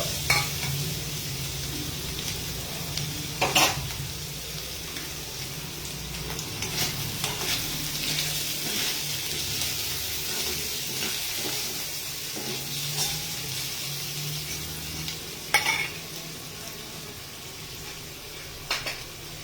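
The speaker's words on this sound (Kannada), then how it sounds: "ಲೈಟ್ ಗೋಲ್ಡನ್ ಬ್ರೌನ್ ಬರೋವರೆಗೂ ಹುರ್ಕೊಬೇಕು" Ingredients frying in a pan to light golden brown, a continuous close sizzle broken by a few sharp stirring clatters against the pan.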